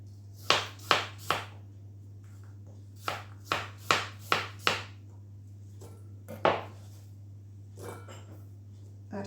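A knife chops apples into chunks for turnovers: about a dozen crisp, close knocks on a board in quick bursts with short pauses, over a steady low electrical hum.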